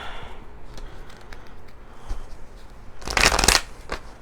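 Tarot cards are shuffled close up, soft scattered card rustles building to a loud, quick riffle burst near the end over faint room background.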